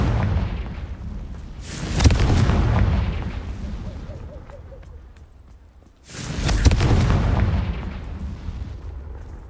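Two booming Confringo spell explosions go off in Hogwarts Legacy, spaced about four seconds apart, each a loud blast with a rumbling roll that fades before the next hits.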